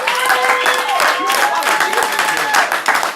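A crowd at a poetry slam in Orlando, Florida applauds steadily, dense clapping throughout, with a voice speaking over it.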